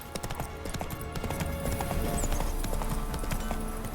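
Roach, a horse in The Witcher 3, trots along with quick, crisp clip-clop hoofbeats. A faint whinny can be heard, and there is almost no talk.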